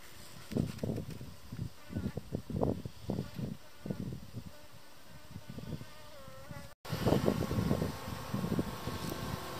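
A honeybee colony buzzes densely around a beekeeper at a steppe apiary, a close, steady insect drone with individual bees whirring past loudly, broken by a brief cut before the swarm sound resumes.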